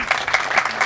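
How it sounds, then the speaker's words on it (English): A crowd claps and cheers in a brief burst of applause at a Kona breakfast event, dense and lively throughout. "How about a round of applause for Heather Jackson?"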